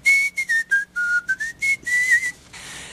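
A person whistles a short melody in quick separate notes, clear and close, with brief gaps between phrases.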